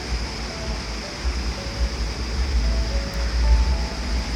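The Parvati River at Manikaran in Kullu, India, rushes as a continuous broadband wash of flowing water. It holds a fairly even level with slight swells and a faint steady tone beneath, and no talking.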